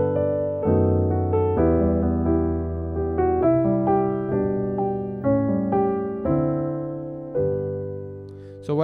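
Piano plays a gospel jazz chord progression in the style of a worship song, with rich sustained chords changing roughly every second over a steady bass, heard close and alone.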